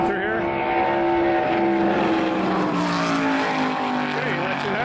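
A NASCAR race car engine roars on the track in a loud, sustained drone whose pitch rises and falls as it works through the power band, with voices faintly underneath.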